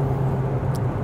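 A Kia Niro hybrid accelerates hard from inside the cabin, a steady low engine drone and road rumble held at an even level for about a second, heard alone.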